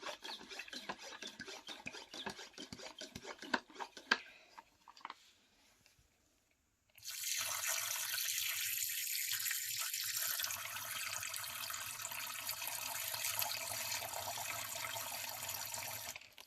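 Water runs steadily from a tap, hissing and splashing close by after a stretch of scraping and rubbing noises and a brief pause.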